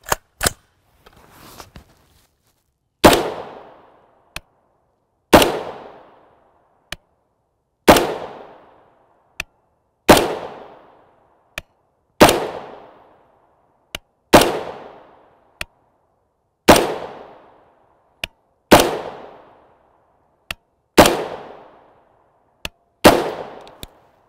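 A homemade AR-15 rifle firing 5.56x45mm M193 FMJ rounds outdoors, each sharp crack followed by a decaying echo, about ten evenly spaced shots a couple of seconds apart.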